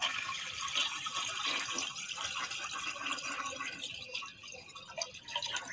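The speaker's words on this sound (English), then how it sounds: "You hear her flushing the toilet?" Steady rushing water from a flushing toilet fills the space at a moderate distance, a continuous hissing swirl that slowly eases without pause, with no voices over it.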